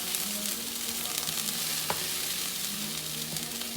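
A lentil taco filling sizzles and fries steadily in a pan, a dense, even crackle heard close up, with a faint low hum underneath and one sharper tap of the spoon midway.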